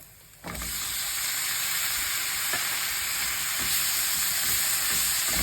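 Ingredients sautéed in a pan, with black pepper and soon tuna for fish cutlets, burst into a loud, steady sizzle after a short quiet start and hiss evenly throughout, with faint stirring clicks.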